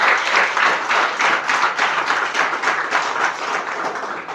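Audience at an Arabic college event applauding, a sustained burst of many hands clapping in a fast, even patter, loud and close, fairly constant for several seconds with no speech.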